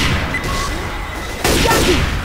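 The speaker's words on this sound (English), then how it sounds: "Throwing a pipe bomb!" A pipe bomb explodes in Left 4 Dead 2 versus play with a loud, sudden crash of blast noise over a busy, roaring background of gunfire and game sound.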